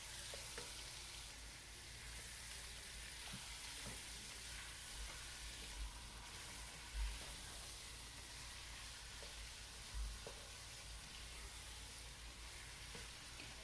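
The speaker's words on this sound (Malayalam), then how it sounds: "ചിക്കൻ നന്നായിട്ടൊന്ന് മിക്സ് ചെയ്തെടുക്കാം." Chicken frying in a pan for Punjabi chicken biryani gives off a faint, steady sizzle, with a few soft scrapes and clicks as it is stirred, and no talking.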